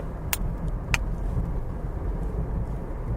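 Steady low road rumble from inside a car driving through Austin, an even engine and tire drone with a couple of faint clicks, no talking.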